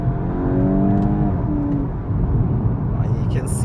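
Volkswagen Golf 8 GTI with a 245 hp 2.0 turbo engine and DSG gearbox accelerating hard in second gear, a rising engine drone with a short dip at the shift, loud in the cabin under road rumble.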